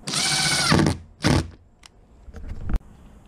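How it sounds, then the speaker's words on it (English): A drill drives coarse thread deck screws through melamine and fiberglass during a boat transom rebuild on an Aquasport 22.2, with a loud whirring burst of about a second, a shorter second burst, then faint handling clatter. "I drilled holes previous through the melamine and the fiberglass, and screwed these deck screws in."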